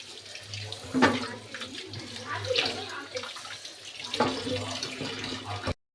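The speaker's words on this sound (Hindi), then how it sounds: "और गाजर को खूब अच्छे से मैं इसे धो लूंगी।" Tap water runs steadily into a sink while carrots are rinsed and rubbed under the stream, with a low hum underneath.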